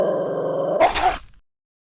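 A dog in an animated story gives a low, drawn-out growl that breaks into a short gruff bark-like burst, close and loud, then cuts off abruptly into silence.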